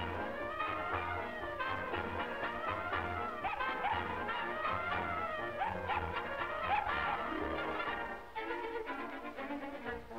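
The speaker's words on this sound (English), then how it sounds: "You poor little dog." Little dog whimpering and yipping: high, wavering whines and short yelps repeat throughout, fairly faint, over quiet background music.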